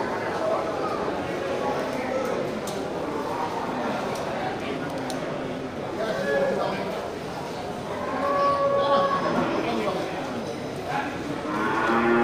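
Water buffalo, including albino bulls and cows, at a livestock market, with occasional low calls rising over a busy background of crowd chatter and shuffling, moderately close and intermittent.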